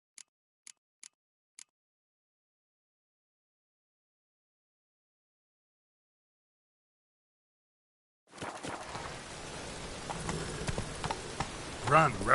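Hooves of Roach, the horse in the video game Witcher 3: four sharp, evenly spaced clicks, a long silence, then a loud, dense, continuous clatter of galloping that keeps going to the end.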